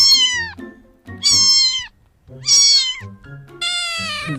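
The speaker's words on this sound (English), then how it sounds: "C for cat." A cat meows four times in a row, each call clear, close and fairly loud, separated by short pauses, with no talk over it.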